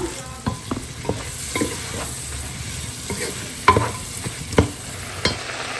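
Green beans and cabbage are stirred in a hot pan with coriander, cumin and turmeric, giving a continuous close sizzle broken by repeated scraping strokes of the spatula.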